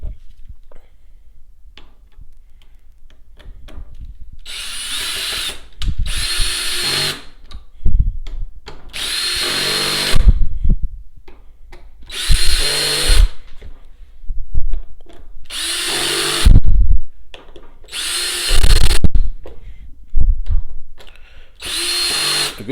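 A power drill drives screws into a Honda CR-V armrest during a vinyl replacement, several separate bursts of high whirring spin, each a second or so long, close and loud with short pauses between.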